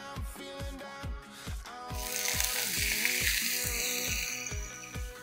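Meat sizzles as it hits a frying pan, a loud hiss swelling and holding steady beneath rhythmic background music with a regular beat.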